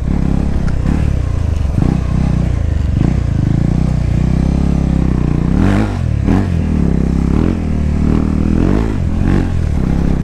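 A modified KTM Duke 390 (BS6) motorcycle revs hard and accelerates, with a loud, continuous engine drone rising and falling through several throttle surges, close by and heard alone.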